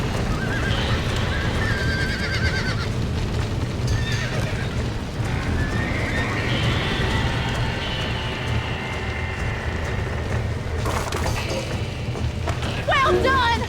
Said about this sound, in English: Now let's save the horses!